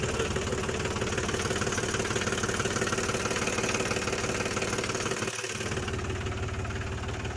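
A Mahindra B 275 tractor engine runs continuously at a steady idle, a loud, close diesel chug with a knocking pulse and vibration and no talk over it.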